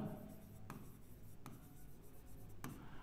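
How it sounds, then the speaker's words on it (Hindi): A pen writes a math solution by hand on paper, giving a quiet, close scratching with a few short strokes and pauses in a calm setting. "तो यहां लिखेंगे बाय पाइथागोरस थ्योरम।"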